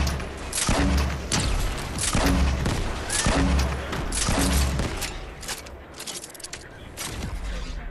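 Grenade launcher in Fortnite fires in a rapid series of heavy booming blasts, four close thumps in a row followed by fainter crackling explosions and game clatter, loud and close with no talk over it.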